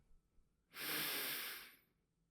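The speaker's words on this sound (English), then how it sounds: "Take a deep breath in." A single deep, slow inhalation, close and soft, a steady airy rush lasting about a second in an otherwise quiet room, with no talking.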